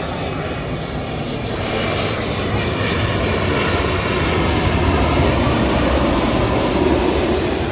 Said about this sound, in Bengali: পতেঙ্গা এয়ারপোর্টে ল্যান্ড করলো আমাদের বিমান বাংলাদেশ